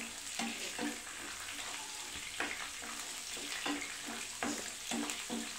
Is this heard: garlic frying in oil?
yes